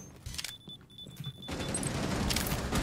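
Grenade blast in Rainbow Six Siege: quiet clicks and a faint beeping tone give way to a sudden loud, sustained roaring burst with debris noise that carries on to the end.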